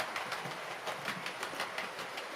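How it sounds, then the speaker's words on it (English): A train runs steadily with a rhythmic clickety-clack and a low engine hum beneath, while a multiple unit is still going nearby; the sound stays even and fairly close with no voices. "I'll just leave you with the train"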